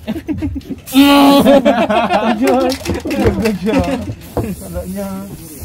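A spray attack in a video game hisses in loud bursts, at the start and again near the end, while excited voices talk and laugh over it.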